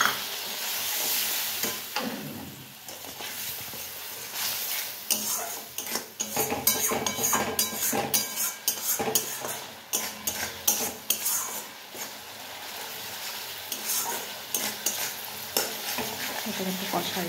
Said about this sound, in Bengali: এটা একটু কষাই